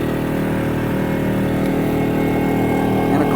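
Wen 2250 watt inverter generator, model 56225i, running near its exhaust port, a steady droning engine hum with a low pulsing rumble, constant and fairly loud with no talking.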